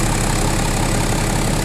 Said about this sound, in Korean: 엔진 소리 일정하고요.